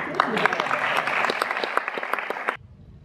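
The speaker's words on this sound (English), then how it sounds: "please clap your hands for me so that I may leave the stage" An audience at a stand-up comedy set claps, a lively burst of many hands with a few whoops mixed in, then the applause cuts off abruptly into near silence.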